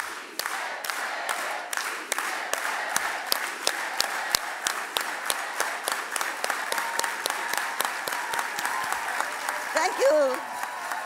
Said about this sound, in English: let's all go together with an organized hand clap.